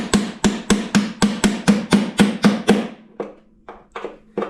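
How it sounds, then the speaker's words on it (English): A hammer strikes a punch, knocking out factory rivets in a fast, even series of sharp metallic knocks, then a few lighter, spaced taps. "Take yourself a punch and a hammer and knock these factory rivets through."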